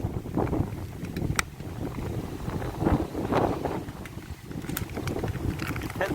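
Strong, gusty wind sweeps a lakeside freshwater eel-fishing campsite on Chungju Lake, roaring and buffeting the microphone in fluctuating blasts with no talking.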